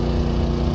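John Deere 6030 tractor with a 531 turbocharged diesel engine, a steady low chugging idle rumble, close and even, alone for under a second.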